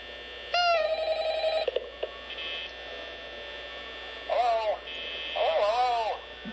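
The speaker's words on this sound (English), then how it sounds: "Pick up the phone, man." An electronic telephone ringing in the horror game Five Nights at Freddy's, with one long ring burst early and two shorter warbling rings later, all over a constant low electrical hum.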